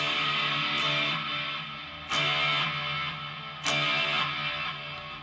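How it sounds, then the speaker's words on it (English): Guitar notes played through the reverb of a HOEREV multi-effects pedal, with strums struck twice that ring out and wash into a lingering, spacious tail. "let's hear some reverb."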